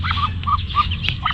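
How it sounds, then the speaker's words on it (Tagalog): Ducks and their ducklings calling up close, several short honking quacks in quick succession over a low steady background hum, with no voices. "mga inakay ng ating bibi"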